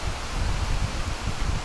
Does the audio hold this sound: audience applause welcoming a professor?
no